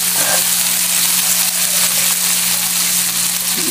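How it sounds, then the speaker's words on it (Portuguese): Tomato and green herbs fry with dried beef strips in a pan, a loud, close and steady crackling sizzle that runs unbroken, with no talking. "Tomate e cheiro verde. Vamos deixar fritar aí um pouquinho."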